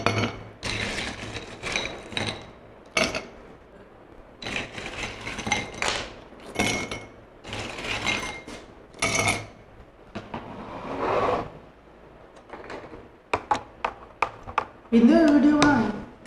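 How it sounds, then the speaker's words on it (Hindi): Ice cubes dropped into two drinking glasses while making falsa sharbat: a scatter of hard clinks and knocks in separate bursts, the sharpest rattling near the end, with a voice speaking in between. "और अब लेंगे हम 2 गिलास। इनमें डालेंगे थोड़ी सी बर्फ़।"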